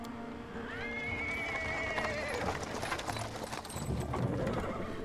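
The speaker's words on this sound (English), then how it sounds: "He is interrupted by the sounds of wheels rolling on paving stones. A cart drawn by a sad little horse appears around a corner." A horse-drawn cart rolls over paving stones in the Pathfinder video game, with clip-clopping hooves, rumbling wheels and a sustained whinny from the horse, all loud and close.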